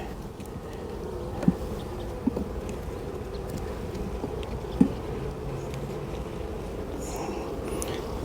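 Honeybees hum around an open hive during re-queening, a dense steady buzz close to the microphone with a few brief clicks and knocks from the hive.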